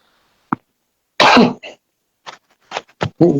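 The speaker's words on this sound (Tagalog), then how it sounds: "Pasensya na, inuubo ko." A person coughs and clears their throat several times in short, uneven bursts, close by, with brief silences between.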